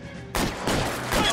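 Gunfire in the 1940s Los Angeles detective game LA Noire: a quiet stretch gives way to two loud, broad blasts about a second apart, each tailing off into a sustained rumble with no voices.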